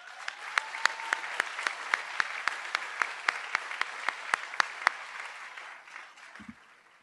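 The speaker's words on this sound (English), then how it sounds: "that success deserves a round of applause" A Gateway to College graduation audience gives a brief round of applause, with crisp clapping that holds for several seconds and then quickly dies away, leaving a soft low thump at the end.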